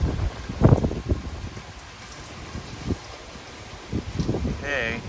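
Steady rain falls outdoors during Hurricane Ida, a broad hiss of drops near a lake with gusts of wind, while a person talks intermittently over it.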